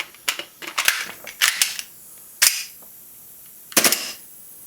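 A WE G18C airsoft pistol fired dry without BBs, giving a string of sharp, close mechanical cracks in uneven bursts, with quiet gaps and a final pair of snaps near the end.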